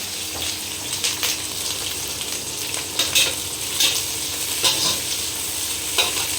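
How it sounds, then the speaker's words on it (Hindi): Capsicum and green chili frying in hot oil, a steady close sizzle broken by repeated spoon scrapes and stirring knocks throughout, with no talking. "पहले शिमला मिर्च को अच्छे से फ्राई कर लेते हैं।"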